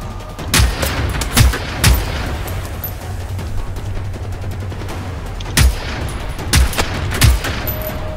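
Gunfire in the video game Generation Zero: sharp, loud shots come in short clusters, a few early and another burst later, over a steady low background rumble.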